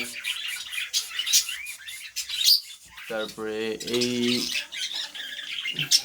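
Bengal finches in a cage chirp and squawk almost nonstop. A person speaks briefly and there is a light clatter in the background.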